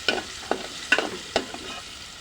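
Shing fish fry in a pan with a steady soft sizzle, punctuated by several sharp metallic clinks and scrapes from stirring, close and fairly quiet.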